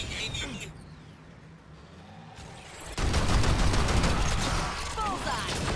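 Gunfire in the sci-fi shooter Evolve during a hunter evacuation campaign, first a dim stretch, then a loud dense fusillade of rapid shots beneath game voices and effects.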